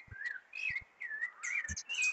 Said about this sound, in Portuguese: É o sabiá, laranjeira, sabiá do peito roxo que chamam